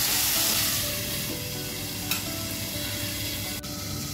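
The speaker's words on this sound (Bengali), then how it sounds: "গ্যাসের ফ্লেমটা 2-3 মিনিটে রেখে দিয়ে নাড়াচাড়া করে ওটা ভেজে নেবো।" Summer vegetables frying in a pan for a light Bengali fish curry, with steady close sizzling and scraping stir strokes throughout, no talking.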